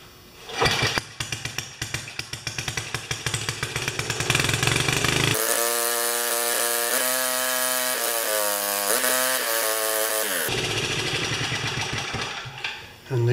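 A small 4HP engine on an Ariens snowblower starts up and runs loudly, with a steady buzzing roar that holds, shifts in pitch midway, then carries on to the end.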